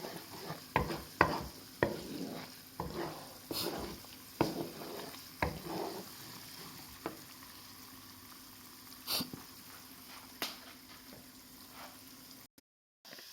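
Latik, coconut curd, sizzles and bubbles in a pan while it cooks, with soft steady frying hiss broken by scattered stirring scrapes and clicks near the pan, fairly quiet, with no talking.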